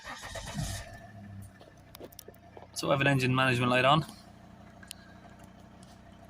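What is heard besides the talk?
Volvo XC90 D5 engine starting and idling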